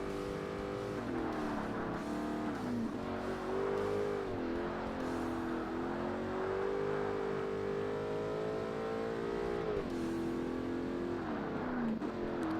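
Car engine revving hard in Forza Motorsport, a racing car driven on hard difficulty in an A Class championship, pitch climbing and dropping through repeated upshifts, loud and continuous.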